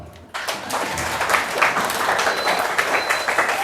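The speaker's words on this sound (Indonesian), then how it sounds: "Tepuk tangannya mana?" Audience applause at an SMP Muhammadiyah Ngemplak school legal-education event breaks out after a brief quiet start, then holds as steady, dense clapping from a sizable crowd with a few whoops over it.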